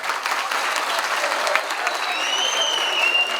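Audience applause at a Malatya event for the "Uzaktan Sevmek Kudüs" program, welcoming an author: steady, dense clapping from a crowd in a hall, sustained throughout with a faint high whistle-like tone near the end.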